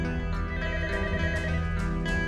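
A telephone rings in a drama scene, a loud, insistent bell tone with repeated bursts of ringing over a dense musical background, no voices.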